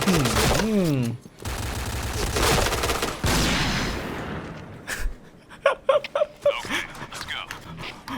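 Gunfire from the first-person shooter Point Blank, with bursts of shots and game effects mixed among music-like tones and a brief dog-like whimper, loud at first and then thinning into scattered sharp pops.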